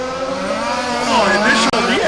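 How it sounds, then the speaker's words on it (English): A race car slides sideways riding the rim at Warm Springs Raceway during a championship rally main, engines roaring loudly with rising revs and a brief squeal under a commentator's voice. "Silver car doing a little rim riding there."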